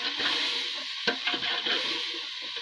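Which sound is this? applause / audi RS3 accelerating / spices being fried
spices being fried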